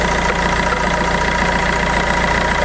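A Fiat Doblo engine idles after oil sump replacement and exhaust work, a steady continuous rumble with a faint knocking texture, close and loud, no voices over it.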